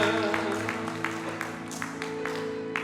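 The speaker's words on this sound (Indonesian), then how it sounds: "Tepuk tangan untuk Tuhan. Lebih meriah lagi, lebih meriah lagi" A church congregation at a Sunday worship service claps along in quick rhythmic bursts, faint and somewhat distant beneath sustained instrumental music.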